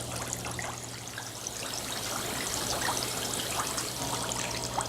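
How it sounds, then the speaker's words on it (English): Filtered clean water trickles steadily out of the bottom of an oil-spill filtering setup, a close continuous dribble with fine splashing over a low steady hum. "See the clean water coming from the bottom here?"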